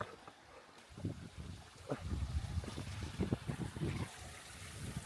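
Gusty wind buffets the microphone with low rumbling bursts, mixed with faint water sounds, fairly quiet overall.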